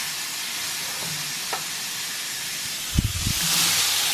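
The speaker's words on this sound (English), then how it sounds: "I've added the vegetables, and I'm just going to stir them around" Onions, bell peppers and garlic sauteing in sausage oil for red beans and rice, a loud continuous steamy hiss with a brief cluster of stirring knocks near the end.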